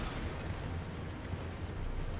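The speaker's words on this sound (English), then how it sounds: "They, yeah, make some rather large explosions" Rolling trolls blowing up in the Elden Ring game, heard as a dense, continuous roar of overlapping rumbling blasts with heavy low-end weight, steady and loud throughout with no talking.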